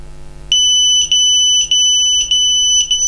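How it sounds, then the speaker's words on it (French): A buzzer on an HGLRC Rekon 5 FPV mini long-range drone sounds in loud, piercing beeps, five bursts spaced at an even rhythm over a steady low hum, with no talk. "Il y a le buzzer qui s'excite."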